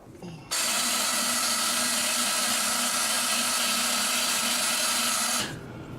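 A cordless power drill whirs loudly at a steady pitch for about five seconds, starting and stopping abruptly, with no talking.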